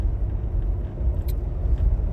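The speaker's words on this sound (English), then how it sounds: "It must be the bumping of the car." Steady low rumble from inside a moving car, with continuous road and engine noise and a few faint light rattles, no voices.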